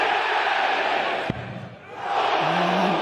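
A darts crowd at the World Darts Championship lets out a short surge of cheering and shouts, a sharp thump cutting in midway, then the roar swells again under a commentator's voice.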